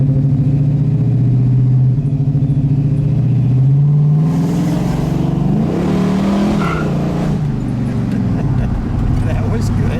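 A red survivor 1970 Dodge Challenger R/T with a 426 Hemi V8 pulls away on a street, its deep engine note rising with acceleration and shifting midway, heard from inside the car with people talking over it.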